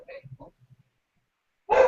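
Dogs bark in a home during a conversation, with a short sharp bark close and loud at the end after some quieter yips and faint voice sounds.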